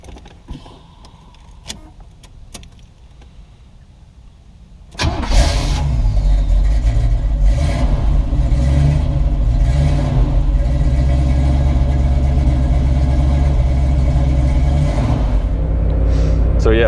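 A 1969 Camaro SS Pace Car engine cranks and fires into a loud, rumbling V8 idle that holds steady nearby after a few quiet clicks and knocks from the cabin.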